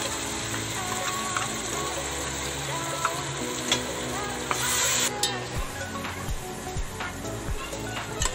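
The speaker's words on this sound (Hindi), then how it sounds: "अब इसमें हरा मसाला डालते हैं और अच्छे से भून लेते हैं।" Green masala frying and being stirred in a pan with golden onions for chicken masala: a steady close sizzle with scraping stirs and occasional clinks throughout.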